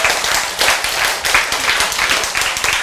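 An audience claps together in steady, dense applause that carries on throughout without pause.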